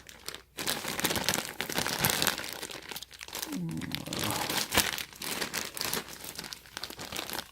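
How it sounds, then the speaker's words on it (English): A Palace Ziploc plastic bag crinkles and crunches continuously during an unboxing, close and loud, with handling rustles throughout. "So we got a nice Palace Ziploc bag."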